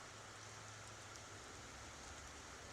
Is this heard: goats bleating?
no